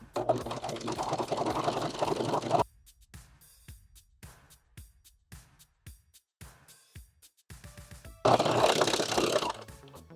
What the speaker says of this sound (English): I'm gonna go serge mine up real quick